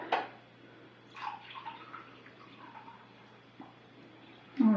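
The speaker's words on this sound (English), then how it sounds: "we're going to measure out a cup of water here" Pre-boiled water poured into a measuring cup, a soft close trickle rising and falling in short bursts over a few seconds, with a brief louder splash at the end.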